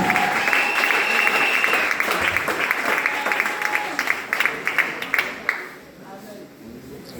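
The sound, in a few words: applause from church congregation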